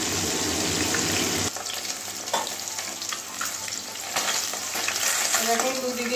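Fresh fish fillets frying in oil in a pan, a steady loud sizzle that drops in intensity partway through as the pieces are turned, then continues with light crackling.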